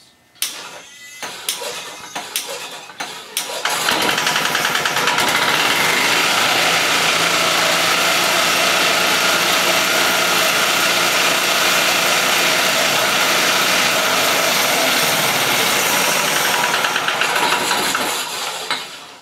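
An old golf cart engine rigged to drive a homemade sawmill starts up after a few knocks, then runs loud and steady for about fifteen seconds before cutting off.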